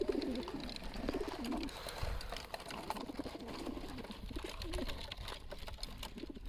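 Pigeons cooing softly near a railway line before being released, a low repeated throaty coo over a faint, busy outdoor background with no talk.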